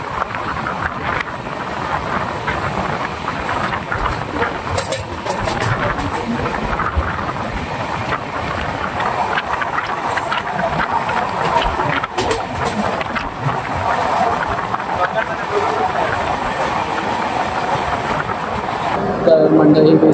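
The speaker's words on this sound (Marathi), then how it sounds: "आता जस्ट कोचीवाली जी आपल्याला रोहाला भेटलेली ती क्रॉस झाली इकडे माणगावला" Kochi-bound train crossing on the Konkan line at Mangaon station, heard from aboard a halted Sindhudurg Express as a continuous rushing clatter and rumble of passing coaches over about twenty seconds, with voices talking in the background.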